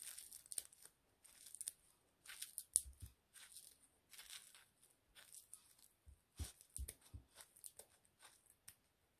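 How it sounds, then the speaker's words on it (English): Quiet, close crinkly snips and rustles in irregular bursts as scissors cut dried dandelion leaves, with short pauses between. "So I'm gonna still use these scissors."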